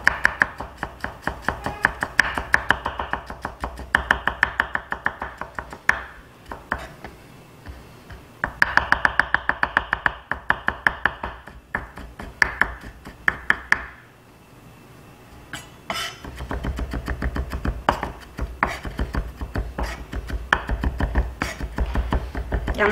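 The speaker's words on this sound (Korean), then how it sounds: "편 썰고 채 썰고 다져주세요" A knife cuts garlic on a cutting board, first slicing, then cutting into strips, then mincing, with rapid, close, crisp chopping taps. The taps come in bursts separated by short pauses and run steadily for over twenty seconds without speech.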